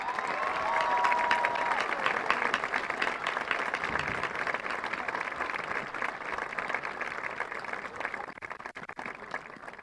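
Sustained round of applause from a large crowd at a Newark High School graduation ceremony for the Class of 2022, dense and steady throughout before thinning slightly toward the end.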